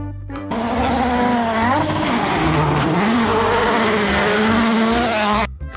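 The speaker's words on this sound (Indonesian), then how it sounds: "Mobil balap." A toy race car or racing-car sound effect plays near and loud: a sustained engine whine sweeping up and down in pitch, steady for about five seconds, with no talking.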